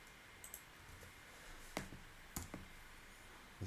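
Sparse, faint keystrokes on a computer keyboard tap out a short terminal command in a quiet room, a few isolated clicks spaced irregularly with pauses between.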